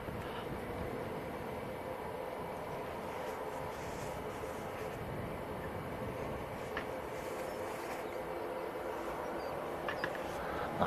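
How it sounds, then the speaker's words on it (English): A Ryanair airliner taxiing out for departure at Manchester Airport makes a steady, distant jet engine drone, an even broadband rumble with a faint whine that barely changes across the stretch, no voices. "The Ryanair taxiing out for departure."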